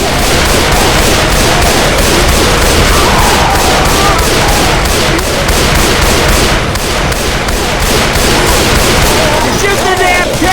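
Several players in Left 4 Dead 2 fire their guns together at the Tank, a dense, loud, continuous barrage of overlapping shots and booms that never lets up.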